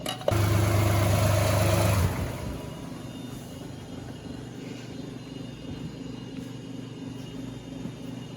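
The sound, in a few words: 2014 Lexus RX350 3.5L 2GR-FE engine running at idle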